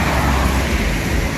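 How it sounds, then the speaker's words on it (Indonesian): Road traffic and buses at a busy bus terminal, a loud steady rumble of idling and passing engines with broad road noise filling the whole moment. "Ini bus Spiro Nauli"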